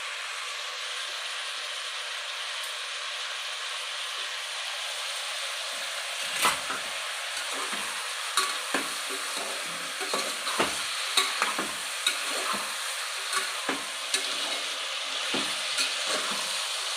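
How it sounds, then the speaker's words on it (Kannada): Chopped tomatoes, turmeric and vegetables frying in a pot for veg biryani, a steady broad hiss of sizzling joined after a few seconds by repeated scraping and clattering strokes of a stirring spoon. "ಎಲ್ಲ ಸ್ವಲ್ಪ ಕ್ರಂಚಿಯಾಗಿ ಫ್ರೈ ಮಾಡ್ಕೋಬೇಕು"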